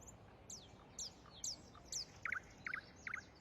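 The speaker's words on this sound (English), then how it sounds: "That's a pretty bird." A small bird chirps in a quiet setting, giving a steady series of short, thin, high calls about every half second, faint and fairly distant.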